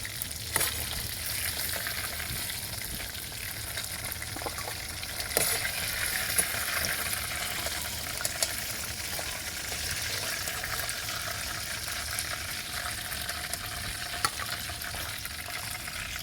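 Frying in oil while cooking a rohu fish curry with potatoes in village style, a steady crackling sizzle running throughout with occasional pops and stirring clatter.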